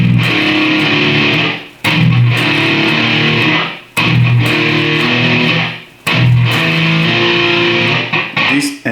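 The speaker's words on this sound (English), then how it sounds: "You use normal root 5 power chords until you hit the 5 and the 6th string." Slow death metal power chords on a heavily distorted electric guitar, with low-string chords mixed with open low-string chugs, played as long, loud, sustained strums broken by brief pauses.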